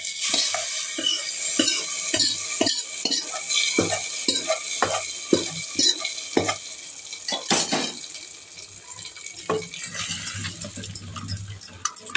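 Ingredients being sautéed in a pan for a simple home dish, with a steady sizzle broken by frequent sharp scraping strokes of a spatula against the metal, close and fairly loud, with no talking.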